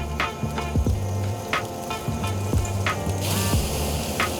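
Bone-in pork chops sizzle on a Kamado Joe grill as they are flipped, a steady close frying crackle with a few sharp clicks and scrapes of tongs.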